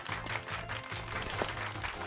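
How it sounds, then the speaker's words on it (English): Dense, steady crowd applause in Pokémon Violet, with continuous clapping over a low musical hum, lasting a couple of seconds. "Give Pikachu a round of applause"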